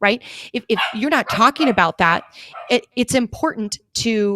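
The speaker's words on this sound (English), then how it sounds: "You can hear my dogs getting all excited in the background." Pet dogs bark and yip excitedly somewhere in the background of a home, faint and intermittent beneath a continuous talking voice that dominates throughout.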